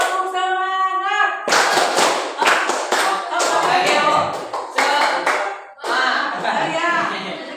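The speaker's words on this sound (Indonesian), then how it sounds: "itu 1, 2, 3, tepuk semangat" A group performing the tepuk semangat spirit clap: repeated loud, crisp bursts of collective clapping in a patterned rhythm, mixed with voices chanting and speaking between the clap runs.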